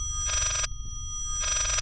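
An old telephone bell ringing in the horror game Layers of Fear, two loud rattling rings separated by a pause, heard alone.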